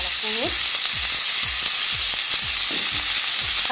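Onions sizzling in hot olive oil in a preheated frying pan, a steady loud crackle and hiss with a few scraping stirs, no voices.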